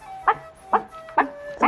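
A dog gives four short, sharp barks spaced about half a second apart, close and loud over a low background hum, with no talk.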